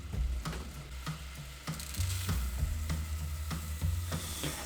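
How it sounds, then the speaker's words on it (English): Rice sizzles in a pan over a syrupy base while risotto is being made, a steady close-up frying hiss broken by repeated stirring scrapes and clinks at a fairly even rhythm, with no talking. "I'm gonna go ahead and add the rice now."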